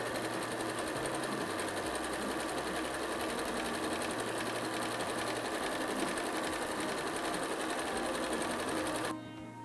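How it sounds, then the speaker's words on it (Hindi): Sewing machine stitching pinned fabric for a nine patch quilt block, a steady fast mechanical whir with rhythmic needle clatter, running continuously up close before stopping abruptly. "थ्रू आउट पिन कर दीजिए, और अब इसको हम सिलेंगे।"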